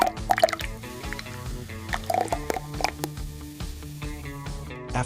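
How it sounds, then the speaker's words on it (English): Automated nozzles fill plastic bottles with thick green juice on a production line, giving wet drips and squishy liquid pulses over repeated machine clicks and clatter, close and fairly busy. "The bottles zoom by as nozzles fill them to the brim with that thick, nutrient-packed green goodness"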